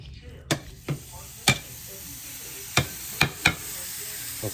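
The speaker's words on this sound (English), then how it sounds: "I'll put the chicken on first." Chicken legs hitting a hot pan sizzle softly, with several sharp clatters and taps of handling scattered through a steady low frying hiss.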